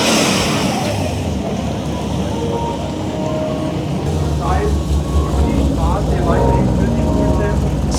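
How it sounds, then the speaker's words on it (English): A pearl white Lamborghini Huracan passes by at a supercar meet, its engine note building amid steady crowd and traffic background noise. "We have a Huracan passing by in pearl white."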